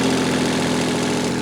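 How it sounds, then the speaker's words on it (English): Kubota L245H compact tractor diesel engine running at a steady idle, a continuous low rumble with even mechanical knock, close and fairly loud with no talk. "Now that we have the tractor started"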